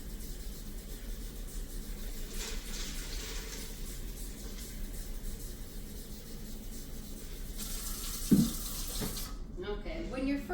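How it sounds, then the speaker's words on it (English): Tap water running into a kitchen sink to rinse 15-bean soup beans, a steady moderate stream with a faint clatter near the end and the flow cutting off. "We're gonna run some water because we really need to rinse these well."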